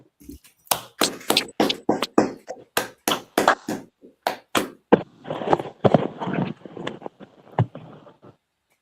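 A class claps hands in a steady run of sharp, evenly spaced claps, loud and close, then breaks into looser overlapping applause that trails off.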